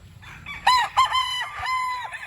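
An October-born sweater gray gamefowl rooster crows once close by, a loud harmonic call rising sharply and trailing off over about a second and a half.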